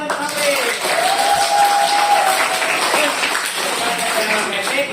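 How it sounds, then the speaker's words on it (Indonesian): Classroom students applauding a classmate, a dense spread of clapping that lasts several seconds under voices and chatter. "berikan tepuk tangan untuk Apri"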